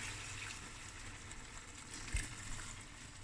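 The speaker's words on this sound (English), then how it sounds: "So I'm going to add the water" Water pours into a pot of mutton curry over medium heat, a steady soft gush with a brief louder splash near the end, no voices.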